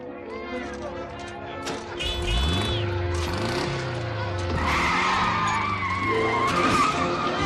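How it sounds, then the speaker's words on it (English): Herbie the race car struggles off the starting line with tire screeches and skidding squeals that rise and fall in pitch. An engine revs underneath, and a voice speaks over part of it. "Herbie's ready to race, but has some trouble getting off the starting line"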